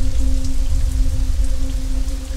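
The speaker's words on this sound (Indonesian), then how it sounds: "Hujan terus mengguyur kami." Heavy rain pouring during a night in the forest on a hiking trip, a dense, constant hiss of drops close by with a low steady rumble and a faint background hum, no voices.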